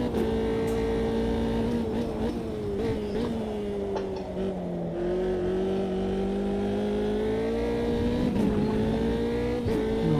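A Formula 3 race car at Jerez in Automobilista 2 holds a steady, loud engine whine throughout, its pitch dipping and climbing with throttle and gear changes.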